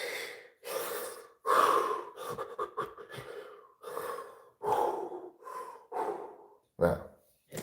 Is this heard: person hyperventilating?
yes